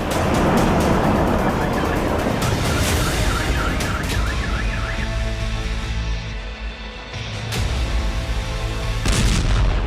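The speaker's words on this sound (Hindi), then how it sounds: "बेलबेक एयरबेस के नजदीक जोरदार धमाका हुआ और धूल धुएं का गुबार आसमान पर छा गया" Loud, sustained rumbling roar with sharp cracks and bursts, like a nearby explosion and its aftermath, dense and noisy throughout; an explosion near Belbek airbase in Crimea.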